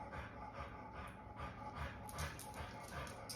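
Java the dog pants in quick rhythmic breaths close by during a vet nurse's heart-rate check, soft and steady.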